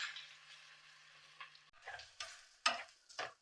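Ginger garlic paste frying in a pan for a ridge gourd prawn curry, with a faint sizzle and a few soft, uneven stirring scrapes and taps.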